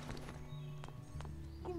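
Hooves clip-clopping in the Barbie Horse Adventures: Wild Horse Rescue video game, a few sharp hoof steps spaced irregularly over steady background music, moderately close.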